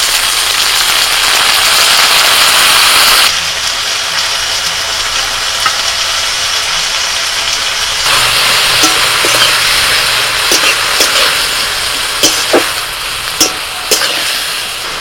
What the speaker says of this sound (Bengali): এবার দিয়ে দিচ্ছি টমেটো কুচি, এবার দিয়ে দিচ্ছি কুলেখাড়া শাক